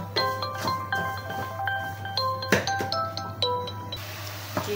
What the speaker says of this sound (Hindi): चम्मच हिलाते रहना, बिल्कुल नहीं छोड़ना ताकि ये अच्छे से मिक्स हो जाए चीनी और दूध